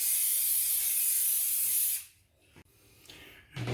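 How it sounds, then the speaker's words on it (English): A sustained hiss of aerosol cooking spray onto pie tins lasts about two seconds, close and fairly loud, then stops, followed by a few light handling clicks. "Just going to spray these pie tins."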